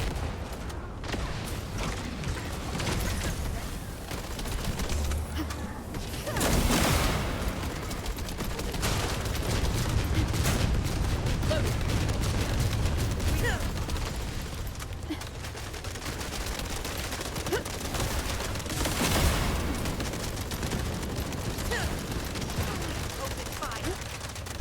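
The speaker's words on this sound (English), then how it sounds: "So I'm using the sniper rifle, so it's going to do more damage." Sniper rifle fire in a video game, with scattered loud shots and bursts of gunfire over a dense battle din, under talking voices.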